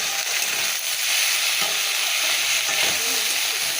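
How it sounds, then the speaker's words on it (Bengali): Gram flour pakoras fry in hot oil with a loud, continuous sizzle and crackle, close up and steady throughout. "পাতলা পাতলা করে অল্প বেসন আছে দিয়ে এটা পকোড়া করব"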